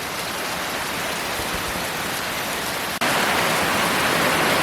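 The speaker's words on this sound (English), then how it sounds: "Now the rain is really coming down, almost in sheets." Heavy rain pounds steadily on a REI Passage One tent in a dense, unbroken hiss, close and loud throughout, with one tiny break in the roar near the end.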